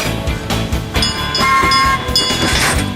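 A cartoon breakdown train runs with a loud, rhythmic clickety-clack of wheels on rails and a bright whistle-like tone over the top, close up and with no talking.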